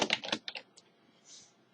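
A burst of quick keystrokes on a computer keyboard, close and crisp, followed by a couple of isolated taps and a softer brushing sound, with no voice.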